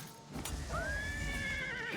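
A horse in the video game Oblivion Remastered lets out a long, loud whinny that rises and wavers over hoof clatter and background rumble.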